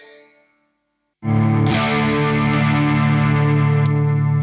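Electric guitar with vintage low-output Duncan pickups through a Marshall ST20 amp, a distorted chord struck after a brief fading note and silence, then sustaining loud and thick with effects.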